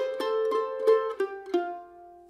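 Close, clear mandolin picks a handful of notes and slides up into an F double stop in a tune, the final two-note chord ringing and fading with no voices.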